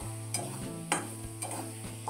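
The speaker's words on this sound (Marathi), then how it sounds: "आता ही साखर खव्यामध्ये चांगली विरघळेपर्यंत आपल्याला हे हलवून घ्यायचं आहे" Sugar being stirred into khoa in a pan over very low heat, a few soft scraping strokes at steady intervals over a low steady hum, close and fairly quiet.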